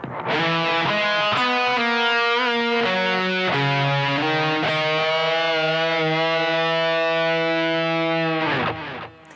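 A distorted electric guitar plays a sustained melodic phrase of several picked notes and a bend, ending on a long held note, loud and alone.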